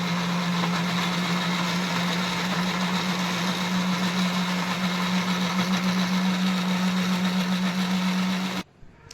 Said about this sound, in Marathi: एकीकडे मिक्सर लावण्याची आता तयारी चालू आहे